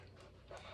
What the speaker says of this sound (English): If you hear little pitter-pattery paws, that's my puppies.